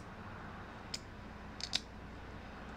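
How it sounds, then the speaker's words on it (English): A Phillips Brewing Implosion pilsner can is cracked open quietly outdoors in a traffic circle: a faint single click, then a quick double snap and pop, over a steady low background hum. "so we'll just stealth crack this beer"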